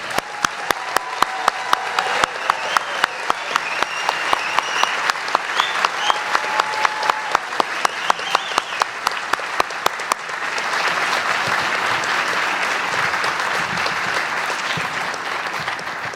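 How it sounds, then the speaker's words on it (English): An audience applauds graduating students at the 2018 Texas MS Programs commencement ceremony, steady, dense clapping that carries on for more than fifteen seconds with sharp individual claps standing out, then swells slightly. "so let's have one more for our students"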